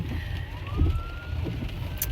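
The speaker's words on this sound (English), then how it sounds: "I hear an ambulance." A distant ambulance siren wails over steady rain and traffic noise, its tone sliding slowly as it moves past.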